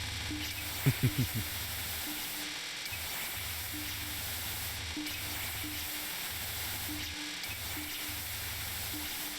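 Continuous white-noise hiss of the spell-release sound in the Touhou shooter Hidden Star in Four Seasons, played on Lunatic, running steadily under bursts of game sound effects and a few sharp chime-like hits.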